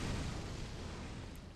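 A deep, sustained explosion rumble from the video game Bloodborne, a broad low-heavy roar that stays loud and slowly fades across its length with no voices.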